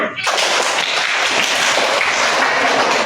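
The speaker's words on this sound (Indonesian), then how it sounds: "Mari kita tepuk tangan." Classroom audience breaks into applause, a burst of many hands clapping that starts abruptly and continues densely and fairly loud throughout.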